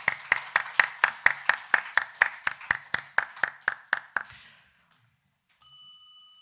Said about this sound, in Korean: 하나님께 감사와 영광의 박수를 드리겠습니다.